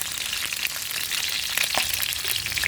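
Pre-soaked fish (paksiw) frying in hot oil outdoors, a steady close crackling sizzle with scattered pops throughout and no talk.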